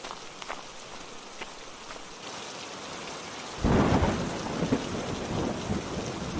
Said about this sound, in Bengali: এভাবে বৃষ্টি কমার আশায় বসে থেকে লাভ হবে না